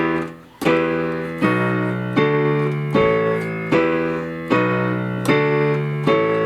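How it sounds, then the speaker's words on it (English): A piano chorus from a song plays in reverse, with swelling notes that build up and stop sharply on a steady, repeating pulse of chords, up close and with no talking. "Sounds pretty catchy if you reverse the chorus like that."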